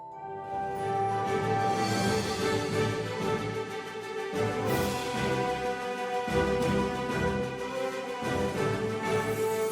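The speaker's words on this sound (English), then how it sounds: "the classic cymbal swell to mask every transition" Video game combat music shifting between intensity layers, with cymbal swells smoothing the transitions; dense orchestral texture plays continuously at steady loudness with swelling accents.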